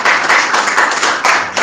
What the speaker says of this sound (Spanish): Dale otro aplauso porque Dios te salvó